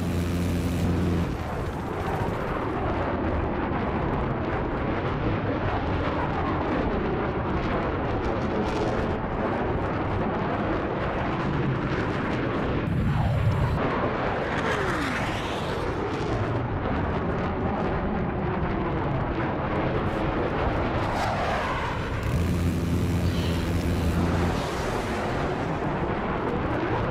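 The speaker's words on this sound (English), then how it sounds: "I spotted an enemy chopper." Enemy helicopter in a Hangar 21 stealth-jet shooter game, a continuous loud rotor and engine drone mixed with explosions and gunfire, shifting as it passes overhead with brief sweeping bursts.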